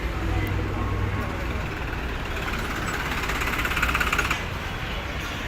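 A red 2003 Swaraj 744 tractor idles steadily at a tractor market in Moga, its low continuous engine rumble close and loud over busy outdoor background noise.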